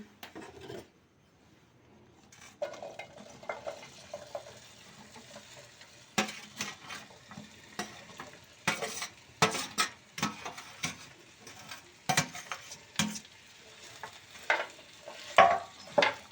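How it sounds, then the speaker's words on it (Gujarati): Sliced okra stirred in hot oil for masala bhindi sabzi sizzles and crackles close up, with a spoon repeatedly scraping and clacking against the pan in uneven strokes. "તો હવે આપણું તેલ ગરમ થઈ ગયું છે એટલે હવે આપણે અંદર ભીંડો નાખી દઈશું"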